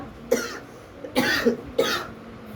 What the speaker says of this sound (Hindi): वो धूल से खांसी आ गया है।